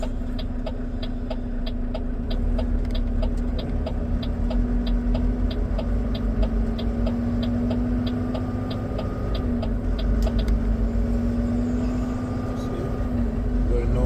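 A Volvo auto-shift truck descends a 10 km hill on BC Highway 24 near Little Fort, its engine droning steadily with a constant low hum and road noise throughout, while someone talks over it.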